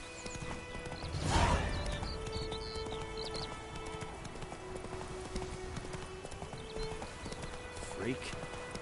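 A horse in The Witcher 3 on PS4 with rhythmic clip-clop hoofbeats and a whinny near the start, steady galloping beneath a voice speaking over the gameplay.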